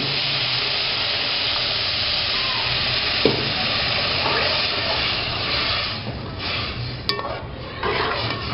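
Loud, steady sizzling and bubbling as water is poured into a hot pan of sweetened porridge for lapsi, with a few light clinks of a utensil against metal near the end.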